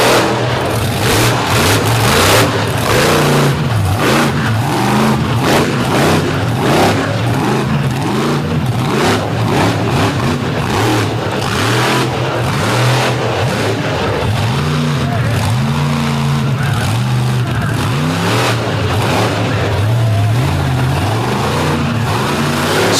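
A monster truck engine roars and revs hard during a points competition at the Brooksville All Star Kickoff, loud and continuous, surging up and down in pitch with throttle bursts and a gritty mechanical rasp close to the mic.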